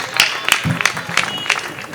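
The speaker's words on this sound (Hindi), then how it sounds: "बहुत जोरदार तालियों से शिवेश को आमंत्रित करिए" An audience at a Hindi poetry stage event claps to welcome the young poet Shivesh, giving scattered, moderately loud applause, with a voice speaking over it.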